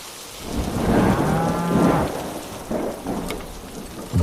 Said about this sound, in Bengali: এই তো আবার বৃষ্টি পড়া শুরু হয়েছে